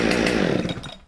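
A Husqvarna chainsaw fires on the first pull and runs loud and close, its engine roaring steadily before easing off near the end.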